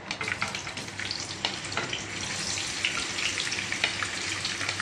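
Chicken sausage fries in hot oil, a dense, steady crackling sizzle with scattered pops, close and continuous throughout.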